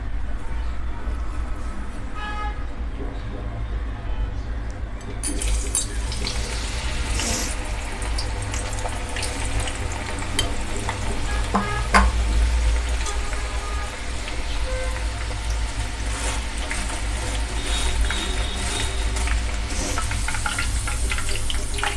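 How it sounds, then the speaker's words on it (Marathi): Moong dal frying in hot oil in a large kadai gives a steady, dense sizzle that fills the clip from start to end, with a brighter burst after the first few seconds and occasional faint clinks. "मोठी कढई घेतली तेल चांगलं गरम झालं आहे"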